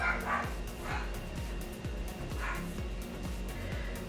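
Distant dogs yap over and over in a quick, steady rhythm against a low droning background hum; nobody talks.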